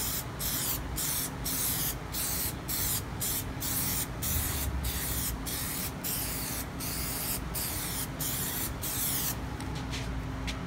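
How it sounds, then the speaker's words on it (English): An aerosol can hisses in a long, steady spray onto a 3D printer's bowed glass bed, broken by regular short pauses as it sweeps back and forth, close up. "But while you're spraying it, just protect yourself."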